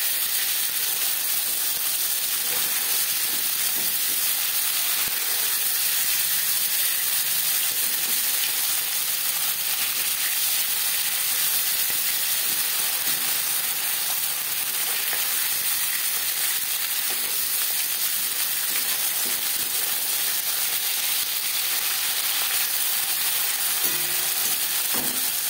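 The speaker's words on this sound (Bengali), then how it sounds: "মাছ ভাজা হয়ে গেছে, একটা পাত্রে উঠিয়ে নেব।" Fasha fish fry in hot oil with a steady, close sizzle that holds unbroken throughout, with no talk over it.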